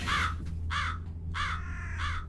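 Crows caw in the video game Chilla's Art Jisatsu, four harsh, close calls in quick succession over a low steady hum.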